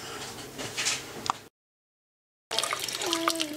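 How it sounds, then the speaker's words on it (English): Hot water runs from a kitchen faucet over a frozen chicken still wrapped in plastic, making a quiet, steady splash that cuts out briefly while children's voices sound in the background. "So I turned my faucet on hot."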